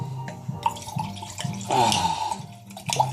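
White wine pours into a glass in a kitchen during seafood cooking, a short burst of gurgling liquid between light clinks and taps, close and without talk.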